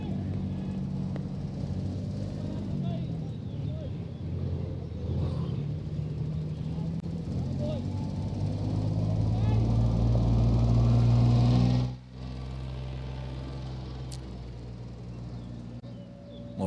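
A tractor cruises past on Ting Kwong Road beside a cricket match, a steady low engine rumble that swells as it draws near, then drops away suddenly, with faint background sounds.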